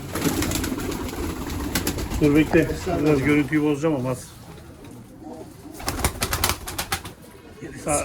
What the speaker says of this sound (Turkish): Abi çok güzel uçuyor kuşlar ya